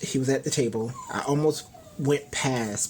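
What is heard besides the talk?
dog whining in the background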